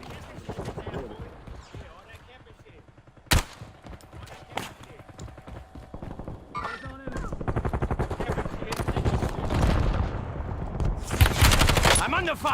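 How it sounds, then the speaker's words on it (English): Rapid bursts of gunfire in a video game, sharp cracks and rattling volleys that grow denser toward the end, mixed with game noise and a player's voice. "I'm under fire."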